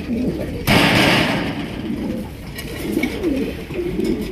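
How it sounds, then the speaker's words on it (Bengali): Colored Raj gola pigeons coo softly in a loft, several low throaty calls repeating close by, with a sudden loud flutter or knock near the start and someone speaking over them. "বন্ধুরা এখানে রয়েছে আরো এক জোড়া কালারিং রাজগোলা কবুতর"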